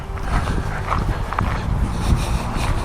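A dog whimpering and panting close by during an indoor obedience session, with steady low rustling and scuffling underneath.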